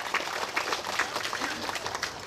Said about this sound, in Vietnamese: xin cộng đoàn nổ tràng pháo tay dài để chào mừng các cha